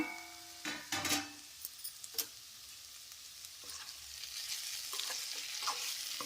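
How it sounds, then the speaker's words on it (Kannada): Potato and capsicum dry curry cooks in a pan, giving a soft continuous sizzle with a few sharp clinks and scraping stirs early on, then settling into a steady low crackle. "ಪ್ಲೇಟ್ ಮುಚ್ಚಿ ಕಮ್ಮಿ ಉರಿಯಲ್ಲೇ ಇದನ್ನು ಒಂದು ಐದು ನಿಮಿಷ ಬೇಯಿಸ್ಕೋಬೇಕು"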